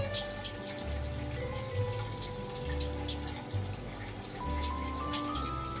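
Water runs steadily from a kitchen tap in an unbroken, moderately loud rush, with faint background tones beneath it.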